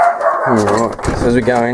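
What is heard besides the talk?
dogs barking indoors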